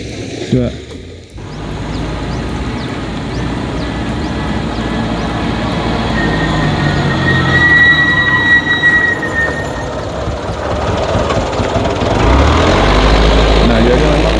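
Heavy trucks roll past on a road construction site in the rain, a loud rumbling roar building over several seconds with a thin high squeal mid-pass and a deep low drone near the end.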